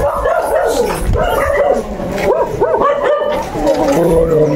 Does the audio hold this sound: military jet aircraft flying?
no